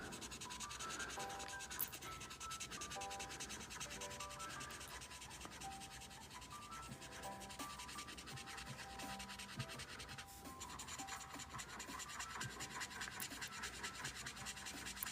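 A dry, nearly spent marker scrubs steadily across paper while someone colors, a continuous close rasping rub with no talking.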